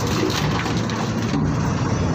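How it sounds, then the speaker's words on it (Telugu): Heavy rain pours down steadily on a road where lorries sit stranded near a swollen stream, a dense, loud, continuous roar of falling water with no voices. "ఇది వాన"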